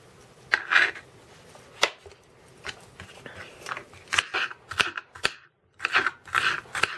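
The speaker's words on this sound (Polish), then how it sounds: "Kroję na drobniutką kostkę, około pół" A knife dicing food into small half-centimetre cubes on a cutting board, giving crisp, irregular close-up chops in quick bursts with brief pauses between them.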